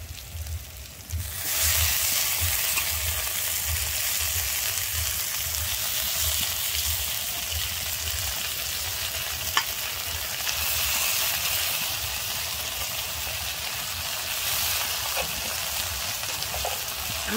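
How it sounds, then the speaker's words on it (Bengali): Drumstick flowers tossed with potato and eggplant sizzle loudly and steadily in a hot pan, a dense close frying hiss with a few faint stirring clinks, no voices. "আমি দিয়ে কিন্তু খুব ভালোভাবে আলু বেগুনের সঙ্গে এখানে মিশিয়ে নেব।"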